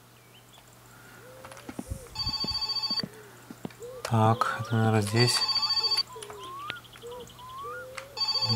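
A telephone rings inside the game My Summer Car in short, bright electronic bursts, with several separate rings spread across the moment and someone speaking between them.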